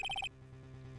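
A phone rings in Phoenix Wright: Ace Attorney, with four quick, bright electronic trills in a rapid burst. It cuts off abruptly, leaving only a quiet, low background hum.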